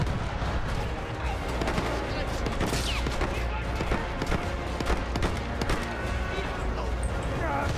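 Rapid gunfire and explosions from the World War I shooter Battlefield 1 on PC, a dense, continuous din of shots and blasts with someone talking over it.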